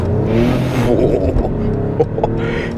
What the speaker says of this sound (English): Let's accelerate from the stop here